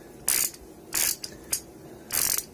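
A ratchet wrench with a poorly holding locking mechanism clicks through four quick ratcheting bursts, bright and close, with short pauses between strokes.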